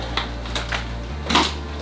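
Scissors make several quick, crisp snips close by, spaced irregularly over a low steady electrical hum, with no voices.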